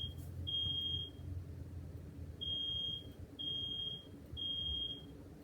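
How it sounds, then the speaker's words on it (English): A smoke-style fire alarm sounds indoors in four high, piercing beeps, the first long and the rest shorter, over a low room rumble. "while the fire alarm goes off"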